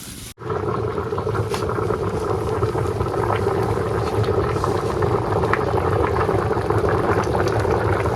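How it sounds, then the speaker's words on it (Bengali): Curry water boils in a pan over a village-style cooking fire with a steady bubbling seethe, heard close and continuous after a short click at the start. "তরকারির জল ফুটে গেছে"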